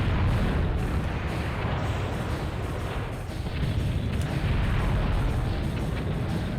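Tank cannon fire and explosions in the video game Battle Tanx Global Assault make a dense, continuous rumble of booms and blasts. It stays loud and steady throughout, with no voice over it.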